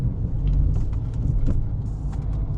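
Dodge Challenger R/T with a six-speed manual downshifting during a brake test, heard from inside as a steady low engine and road rumble with faint clicks and shifts over the top.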